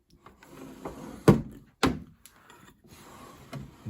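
Wooden drawer of a tall boy dresser packed with VHS tapes pulled open, giving two sharp sliding thunks close by, with faint rustling between them.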